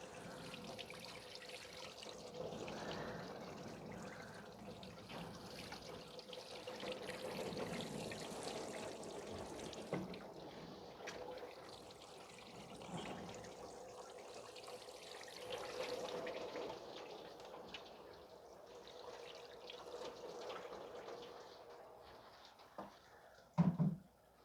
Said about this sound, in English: Just gonna give it a quick wash down here with water first before I start to bleed the cooling system.